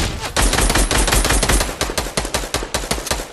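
Fortnite gunfire rattles in rapid, loud bursts of automatic shots, dense at first and then breaking into a quicker string of separate cracks.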